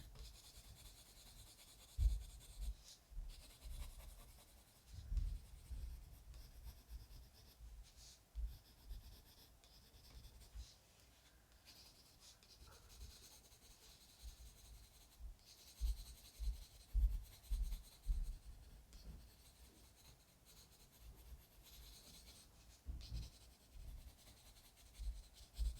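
Colored pencil burnishing on paper with gradually increasing pressure, a faint, intermittent scratchy rubbing of strokes with soft low bumps, quiet and close, no talk.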